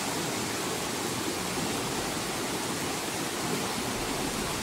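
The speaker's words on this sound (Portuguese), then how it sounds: "ele mostrou essa linda cachoeira aqui" A waterfall roars in steady, dense broadband rush with no breaks, loud and close, a humid outdoor setting with no voices.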